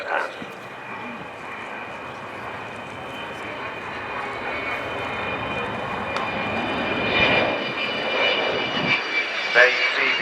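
Avro Vulcan bomber's jet engines roaring at takeoff during an airshow at RIAT 2015, a broad sustained rumble heard from a distance, with an announcer's voice running over it.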